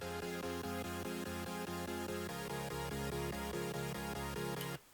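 Mono supersaw synth chords from FL Studio, played as rapid rhythmic pulses that step through chord changes, bright and dense, ending abruptly with no voices.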